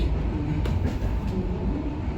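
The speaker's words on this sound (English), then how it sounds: "welcome aboard the Overland train to Adelaide" Inside the Overland passenger train running between Melbourne and Adelaide, a steady low rumble of the carriage fills the cabin, with a few faint knocks and clicks over the continuous travel noise.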